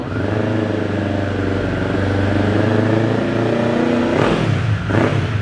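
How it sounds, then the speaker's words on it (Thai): A 2021 Kawasaki Z400SE with a Yoshimura-style slip-on exhaust idles steadily up close, then takes two quick throttle blips near the end that rise fast and drop back to a settled idle. "ฟังเสียงท่อคันนี้กัน"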